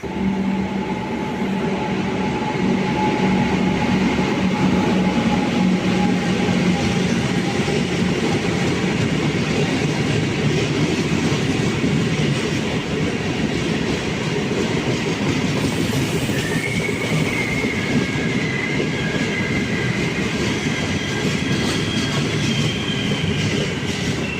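Sabari Express, a long-distance passenger train in South India, runs on the rails with a loud continuous rumble and rhythmic wheel clatter, heard from on board with faint squeals and no talking.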